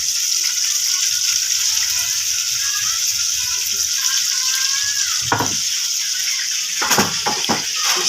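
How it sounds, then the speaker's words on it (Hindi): Chopped onion fries in a pan with a steady, bright hiss throughout, joined near the end by a few sharp clinks and scrapes of a utensil against the pan. "प्याज को फ्राई करेंगे हल्का सा"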